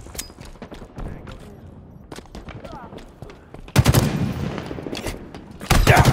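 Plasma pistol fire in Halo Infinite ranked multiplayer crackles in short bursts, growing into loud rapid volleys in the second half, with a voice talking over parts of it.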